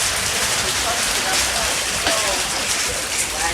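Hail falls hard during a storm, a dense, steady hiss of countless small impacts pattering on surfaces without letup.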